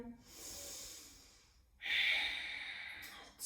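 Slow yoga breathing during a held standing pose, a long soft exhale followed by a stronger, breathy inhale through the nose, close and quiet with no talking.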